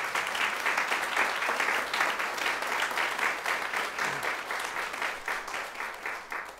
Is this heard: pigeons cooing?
no